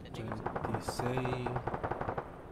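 Bursts of machine gun fire from a technical vehicle in Arma 3 rattle in rapid, evenly spaced shots, fairly distant and low in level, with brief radio-style voices overlapping.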